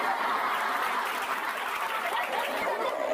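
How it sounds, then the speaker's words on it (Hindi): Steady applause from a crowd in a comedy skit, a continuous dense patter of clapping at an even, moderately loud level from start to finish. "वेल डन, तालियां।"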